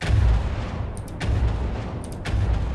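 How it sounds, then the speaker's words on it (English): A soft bass cannon firing in the game From The Depths: a few muffled, low booming shots spaced about a second apart, each with a brief crack on top, heard alone against a low rumbling background. "It's a soft bass cannon."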